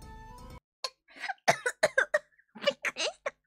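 A young woman gives a run of short, sharp coughs in quick clusters, close and dry, after a brief hum of background noise that abruptly stops.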